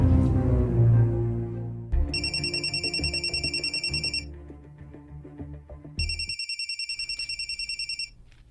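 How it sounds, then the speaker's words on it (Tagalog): A telephone rings in a drama scene, two bursts of rapid electronic trilling over a background music bed, loud and close, separated by a short gap. "Nanawag si Romero."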